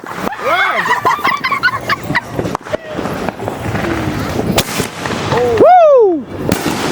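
Fireworks go off on the Fourth of July, several bursts and crackles close by with whistling rockets that rise and fall, amid excited voices.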